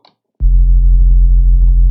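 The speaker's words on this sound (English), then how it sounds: "it's a sine wave with a little bit of tension" A loud, deep sine-wave sub bass tone with a little tension from the Sytrus synthesizer starts abruptly after a brief click and holds steady, with faint ticking sounds above it.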